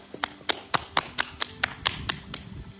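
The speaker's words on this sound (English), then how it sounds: "Clap everywhere." Hands clapping on the body in a slow, even rhythm, about a dozen crisp slaps spaced roughly a quarter second apart, close and clear with no talking.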